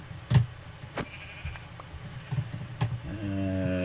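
Sheep bleating in Minecraft, a few short nasal bleats spread across the moment with a steadier, longer bleat toward the end, fairly close over a quiet game background.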